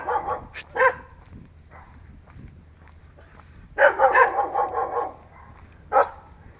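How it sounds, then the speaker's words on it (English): Several dogs bark from a short distance along a road with cyclists, in a few loud bursts: two quick barks, then a longer run of overlapping barking and one final bark, over a quiet background. "Some fucking dogs up there."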